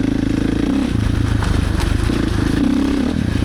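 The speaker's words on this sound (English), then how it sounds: "Go test out the KTM 450 and the KOVE 450." KTM 450 XCF-W and KOVE 450 Rally motorcycles riding, a loud close steady engine drone with rhythmic pulsing and rattly crackle, no speech.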